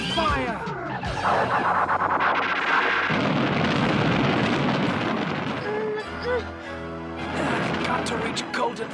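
Animated space-western battle with laser gunfire, explosions and crashing impacts filling the scene, loud and continuous, mixed with music and shouted dialogue.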